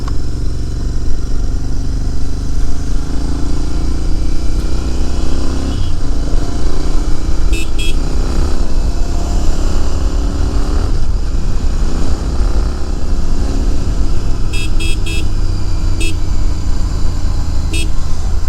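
A motorcycle ride into the busy Gopalnagar bazaar street in Bengal, with a steady loud engine drone and road noise and several short bursts of vehicle horns tooting nearby.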